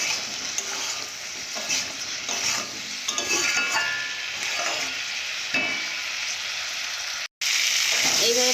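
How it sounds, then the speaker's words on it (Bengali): Bean and potato curry being stirred and sautéed with green chillies in a pan, a steady close sizzle with repeated scraping strokes of a spoon, interrupted by a brief gap near the end. "কাঁচা লঙ্কা দিয়েছি এইভাবে কিছুক্ষণের জন্য ভালো করে কষে নেবো"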